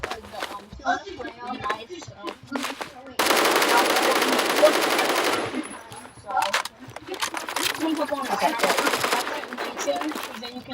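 Automatic gunfire from a weapon in the Roblox shooter Phantom Forces, a dense burst of rapid shots lasting a couple of seconds, then more bursts later, mixed with game effects and a voice talking throughout.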